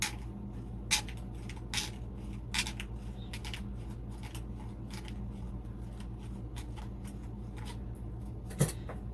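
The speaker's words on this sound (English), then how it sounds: "Keep turning the scissors." Scissors twisted into a hole in a Dollar Tree Halloween cloche, making faint, repeated scraping clicks at an irregular rhythm over a steady low background hum.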